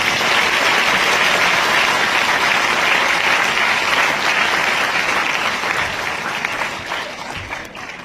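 Audience applause fills the room, steady dense clapping from a large crowd, loud and close, easing off slightly toward the end.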